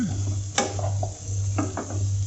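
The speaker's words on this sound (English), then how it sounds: "Along with the pumpkin, I'll be adding the green chilies as well. Now we'll cook this together." Pumpkin and green chilies cook in a pan with a soft sizzle, punctuated by a few scraping stirs of a utensil over a steady low hum.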